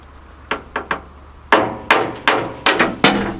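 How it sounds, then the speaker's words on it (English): Hammer blows breaking old Bondo body filler out of a Volkswagen Vanagon van, three lighter taps followed by five heavier sharp strikes in an uneven rhythm, close and loud with no talk. "Let's just break that Bondo right out of there"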